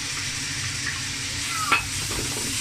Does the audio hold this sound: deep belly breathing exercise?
no